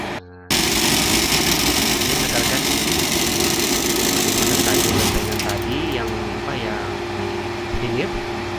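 A 3000-ton press machine for jabon wood veneer runs with a loud, steady industrial drone and hum, a few squeaks and clanks surfacing over the continuous mechanical noise in a factory.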